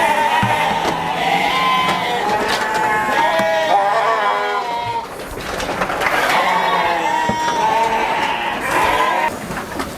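A flock of sheep bleating loudly and almost continuously at feeding time on a farm, while they are given homemade dry feed, with many overlapping calls close by.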